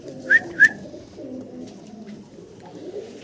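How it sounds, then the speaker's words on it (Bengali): High flyer pigeon chicks give two short, clear whistling calls close by early on, followed by a low background murmur. "এই চমৎকার হাইফ্লার কবুতরের বাচ্চাগুলো"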